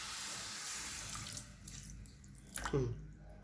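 Water pours into a pan of sugar for a sweet gram-flour milk cake syrup, a steady rushing stream that tapers off into a few splashes and drips.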